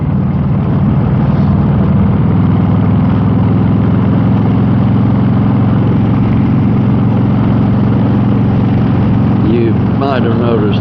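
Motorcycle engine holding a steady, even drone while cruising on a relaxed ride through Southern Indiana, continuous and close throughout, with a few brief rising tones near the end.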